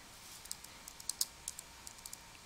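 Quick keystrokes on a keyboard while searching Google Books, a light irregular patter of close, crisp clicks with short pauses in between.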